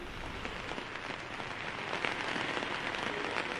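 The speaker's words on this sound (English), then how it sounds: "It's still raining, so there's bad weather now, which is complicating rescue." Steady rain at a landslide rescue site, a dense, even hiss of falling drops that rises slightly partway through, heard alone without voices.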